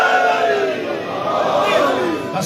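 A Muharram majlis congregation at an Ashra gathering chants takbir and religious slogans in unison, a dense, steady roar of many voices filling the space throughout.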